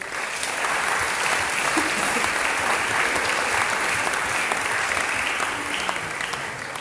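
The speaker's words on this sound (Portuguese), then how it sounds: "uma salva de palmas para todos" Sustained applause from an audience at a three-day debate event in Porto, a dense even wash of many hands clapping, loud and steady throughout with no voices over it.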